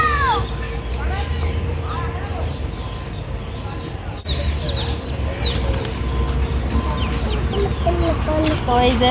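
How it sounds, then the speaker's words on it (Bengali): On a rooftop, a tethered hen and her roaming chicks cluck and cheep continuously, with other birds cooing and chirping nearby and a voice speaking over the busy flock. "এই জন্য ছাদের উপরে মুরগি বেঁধে রাখছে আর বাচ্চাগুলো এমনি চারপাশ দিয়ে খেয়ে বেড়াচ্ছে"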